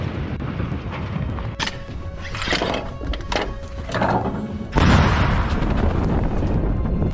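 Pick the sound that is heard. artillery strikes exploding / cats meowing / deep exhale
artillery strikes exploding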